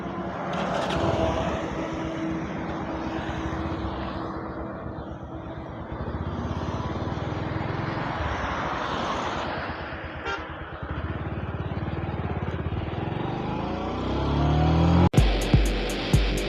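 Motorbike engine with a carburetor running steadily at idle for a long stretch, then cutting off abruptly near the end, followed by a few sharp clicks and knocks.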